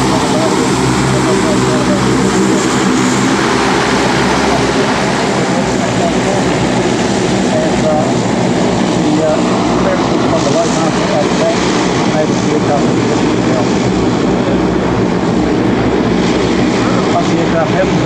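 A C-130 Hercules turboprop military transport performs a maximum-performance display takeoff at an airshow, its loud, sustained propeller and engine roar filling the air steadily while an announcer talks over it.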